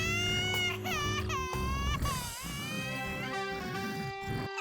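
A cartoon baby wails in long, wavering cries with high harmonic tones, loud and close, rising and falling over a few seconds.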